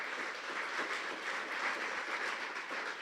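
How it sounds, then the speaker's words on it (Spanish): Sustained applause from a large church congregation, steady and dense throughout with no voices breaking through. "Su mejor aplauso al Señor."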